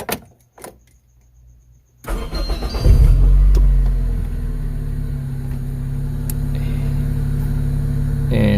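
A Toyota 4AFE engine idles steadily after an ECU reset, its low even rumble starting up loud and close after a couple of seconds of near silence with a few faint clicks, then holding constant to the end.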